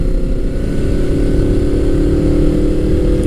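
Honda VFR800 motorcycle engine running steadily with a smooth, loud, even drone that holds close and constant throughout, with no voices.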